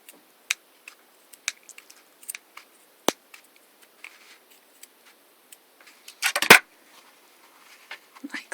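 Scissors snip an incision in layered fabric for trapunto quilting, a series of quiet, sparse clicks and cuts spread across the quiet, with a brief louder rustle of cloth near the end.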